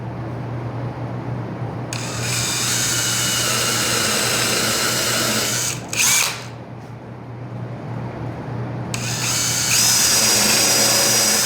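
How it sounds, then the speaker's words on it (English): A power drill fitted with a countersink bit bores screw holes into wood for a bench hook, two long loud whirring runs separated by a brief pause with a short burst between. "I shortened my depth of my countersink, and I'm just going to put 3 holes"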